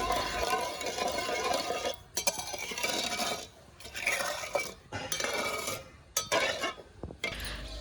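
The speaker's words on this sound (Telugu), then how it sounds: "పాకం వచ్చేసి జిగురు పాకం రావాలి అప్పటి వరకు ఇలా మిక్స్ చేసుకుంటూ మరిగించుకోవాలి పాకాన్ని" Sugar syrup boiling in a pot is stirred to a sticky stage for Sankranti sweets, with repeated metal spoon scrapes and clinks against the pot in bursts broken by short pauses.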